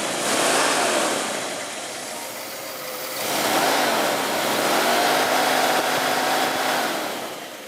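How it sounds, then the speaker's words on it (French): An engine with its original carburettor and intake revs up and settles twice, rising and falling blips of acceleration over a steady running drone, close and alone. "il répond bien à l'accélération."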